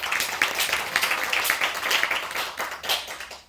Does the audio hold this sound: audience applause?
yes